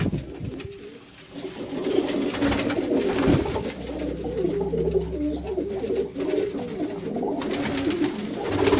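Fancy pigeons in Multan, Pakistan coo softly and repeatedly in low, throaty murmurs, layered over a steady rustling background with no talking.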